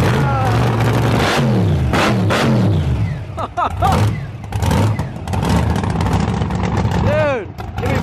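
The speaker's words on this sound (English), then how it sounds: "We got a frigging monster truck at my house today" A big engine revs and roars loudly in repeated surges, rising and falling in pitch, with excited voices talking over it.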